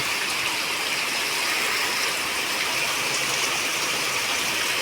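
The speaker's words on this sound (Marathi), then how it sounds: "आज बघा मुसळधार पाऊस पडतोय सकाळपासून" Heavy unseasonal rain pours down steadily in a dense, loud, unbroken hiss, with no voices over it.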